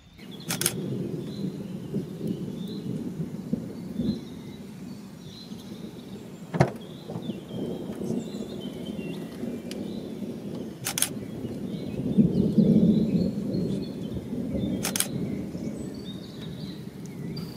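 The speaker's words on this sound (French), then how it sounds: "après quelques minutes passées devant l'orage" Spring thunderstorm heard from a distance: sharp crackling bursts over a steady rushing background, with a low rumble swelling briefly near the end. No one speaks.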